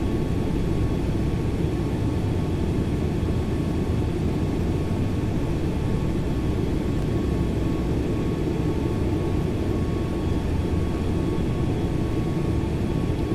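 Steady aircraft engine drone in the X-Plane 11 flight simulator as the plane climbs at climb throttle near Beirut, a dense continuous roar holding even and loud throughout with no talking.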